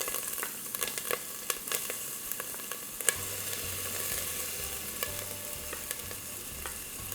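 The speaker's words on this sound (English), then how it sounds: "And let that saute for a little bit." Garlic and onion sizzle steadily in hot soybean oil on a heated cooking surface, a continuous close frying hiss with occasional stirring clicks, heard alone without talk.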